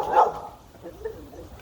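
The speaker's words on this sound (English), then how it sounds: "Oh, that's the neighbor dog, Lola." A neighbor's dog barks once from somewhere outdoors in a garden, a single muffled woof at moderate distance, followed by quieter trailing sounds.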